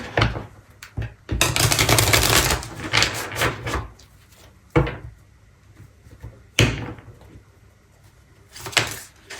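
Oracle cards are drawn and handled, with close shuffling and riffling bursts, sharp slaps and taps, and softer rustles in between, and no speech.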